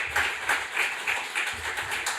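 Sparse, light clapping from a lecture audience at a conference day on historical Aragonese lexicography, with patchy hand claps at moderate volume and no voices over them.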